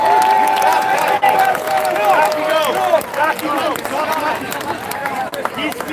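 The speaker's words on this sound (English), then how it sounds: "let's give him a round of applause also" Applause and cheering rise from an outdoor freedom rally crowd in Vancouver, steady throughout and mixed with whistles and scattered voices.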